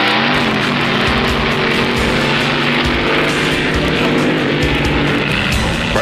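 The Hurst Hemi Under Glass drag car makes a wheelie run at a 1960s drag race, its engine roaring loud and sustained with a raw, racing blare that holds throughout, close by, with no voices.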